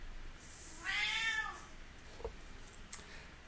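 A cat gives one clear, moderately loud meow with a rising then falling tone, followed by quieter faint sounds against a low background hum.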